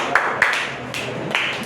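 Students clapping their hands three times in a classroom, with quick separate sharp claps spaced unevenly, fairly close and loud, with no talk over them.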